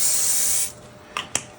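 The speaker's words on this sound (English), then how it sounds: "So let me open this up and spray it down." Cooking spray hisses onto a heated CucinaPro building-block waffle maker in one long, loud, close burst, then two quick short puffs follow.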